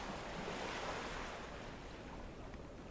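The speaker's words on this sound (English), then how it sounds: "no more ocean sounds" Ocean waves surging onto shore in a steady, broad wash of surf, loud and continuous with a slight swell early that eases toward the end, no voices present.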